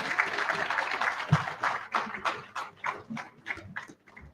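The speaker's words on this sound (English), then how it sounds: "let's clap for the high table" An audience claps at a meeting of the Ghana College of Pharmacists. The applause is dense at first, then thins into scattered individual claps that fade out.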